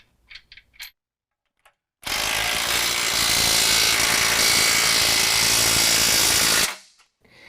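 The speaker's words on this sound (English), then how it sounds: "we're going to tighten those down with a 3/4 inch on each side" A power ratchet or impact tool runs in one continuous, loud burst of about four and a half seconds, tightening bolts and lock nuts on a bracket on a 2018 Jeep JL frame, with brief clicks before and after.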